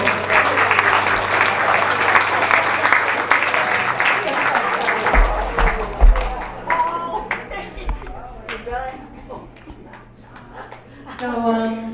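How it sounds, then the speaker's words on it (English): Audience applause at a township matinee tribute concert, dense clapping filling the first half and thinning out, with a voice talking over the later part. "Give yourselves a round of applause."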